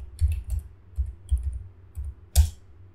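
Computer keyboard keys tapped while entering a password during a software installation, a few soft, separate clicks with short pauses between them, close up, no talking.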